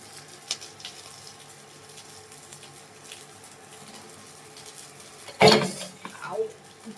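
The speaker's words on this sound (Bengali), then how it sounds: "তো এই যে মাছ ভাজাটাকে আমি তুলে নিই।" Fried fish being lifted out of a pan in a home kitchen: a quiet stretch of low kitchen noise, then a single sharp metallic clatter of utensil against pan near the end, followed by a softer scrape.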